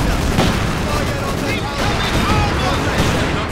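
Katyusha rocket artillery in the Company of Heroes 2 Stalingrad mission: a dense, continuous roar of firing and booming blasts, loud and close, with excited voices talking over it.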